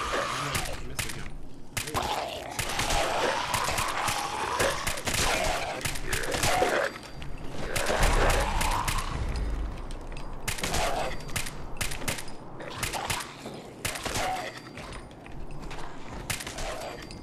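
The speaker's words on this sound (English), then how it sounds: "Fire not so good with this gun." Repeated bursts of gunfire from a Fallout 4 firefight, sharp shots clustered in volleys across the whole stretch, loud and close, with groans and game noise between them.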